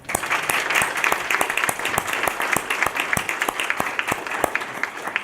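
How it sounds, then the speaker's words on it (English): Applause at a county freeholder reorganization meeting honoring former freeholders, a moderately sized crowd clapping steadily with distinct individual claps audible throughout. "I'd like to give them another round of applause."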